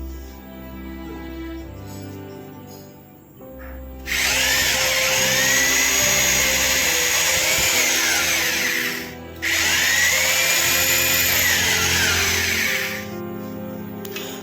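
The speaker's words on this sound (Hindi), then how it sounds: "तो हमारा ड्रिलिंग हो चुका है फ्रेंड्स।" A power drill bores holes into a kitchen wall for a chimney hood bracket, a loud high whine running in two long bursts with a short pause between, after quieter background sounds.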